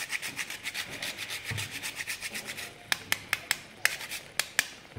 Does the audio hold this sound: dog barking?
no